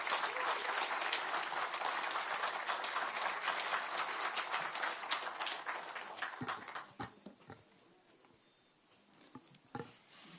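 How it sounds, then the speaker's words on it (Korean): Audience at a political party meeting electing its parliamentary floor leader applauds in a dense, even patter for about six seconds, then thins to a few scattered claps before fading. "큰 박수 부탁드립니다."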